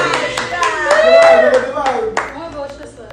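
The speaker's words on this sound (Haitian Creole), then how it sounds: "Ça mérite des applaudissements," A few scattered hand claps from an audience at a gathering ring out sparsely under a loud, sustained voice, sounding close and uneven rather than forming full applause.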